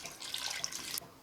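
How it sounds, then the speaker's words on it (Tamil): Water pours steadily into a pot of mutton kulambu for about a second, a close splashing gush that stops abruptly. "நான் வந்து 2 கப்பு தண்ணி சேர்க்குறேன்"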